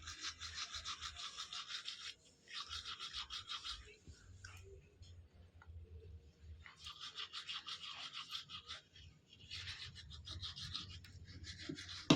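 A child brushes their teeth with a toothbrush, making repeated bursts of close, scratchy scrubbing separated by short pauses, with faint household sounds underneath.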